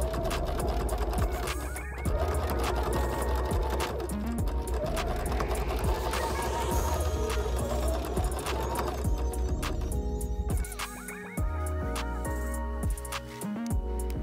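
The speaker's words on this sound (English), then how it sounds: "top stitched the brim using a bit of tape on the sewing machine as our guide" A sewing machine topstitching the brim of a fabric bucket hat, running steadily with a fast, rhythmic mechanical chatter, close up, pausing briefly before starting again.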